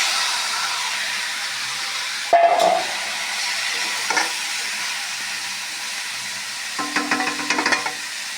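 Bangi melon pieces go into a hot pan for a crab and masoor dal curry, over a steady oily hiss with a sharp sizzling flare and a few later crackling bursts as they are stirred.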